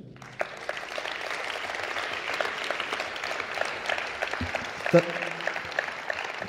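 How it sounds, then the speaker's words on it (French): A congress audience applauds volunteers who ran the event's logistics, steady clapping across the room with a voice or two and a louder bump near the end. "On peut aussi les applaudir."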